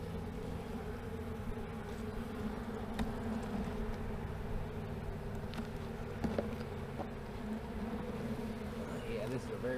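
Honey bees in a small, weak hive hum in a soft, steady drone, close and fairly quiet, with a few brief individual buzzes passing near and faint clicks and rustles.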